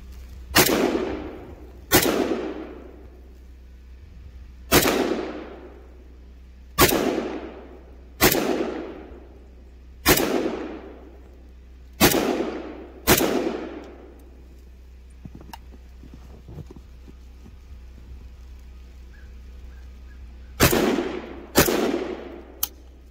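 Repeated gunshots fired at a snowman outdoors, about eleven sharp loud cracks with ringing decay, coming in irregular clusters with a long pause before a final pair.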